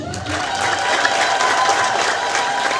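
A church congregation applauding, a dense, fairly loud wash of clapping hands from a crowd, sustained without a break for a few seconds.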